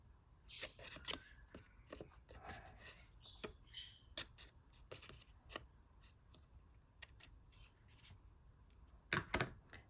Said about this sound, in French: Et couper autour.